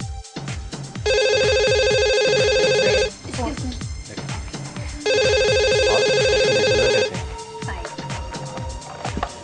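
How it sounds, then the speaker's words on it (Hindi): Telephone bell ringing loudly in two long bursts separated by a pause, with people talking underneath throughout. "तुम्हारा फोन है"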